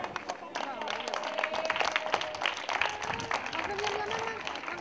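Audience applause at a women's five-mile road race finish in Valldoreix, honouring a runner, steady dense clapping throughout under a clear voice and crowd murmur.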